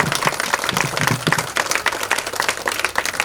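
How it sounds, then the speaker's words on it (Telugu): An audience giving a standing ovation at a tailoring certificate distribution ceremony: sustained, uneven clapping from many hands, with sharp individual claps popping out of the steady crowd applause, at a moderate level throughout. "గట్టిగా చప్పట్లు కొట్టమని."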